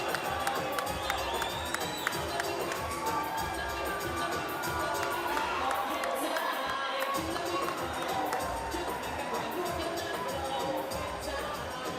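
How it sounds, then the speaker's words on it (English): A busy crowd cheers and shouts at the official Cotto vs. Canelo boxing weigh-in as Miguel Cotto arrives, a sustained, dense roar of voices with whistles and scattered yells, briefly dipping midway before swelling again. "Cotto is on his way, and the crowd will react"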